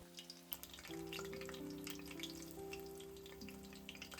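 Sardines frying and browning in oil until crispy for Japanese kabayaki, a steady crackling sizzle with small pops, close and continuous under a faint background tone.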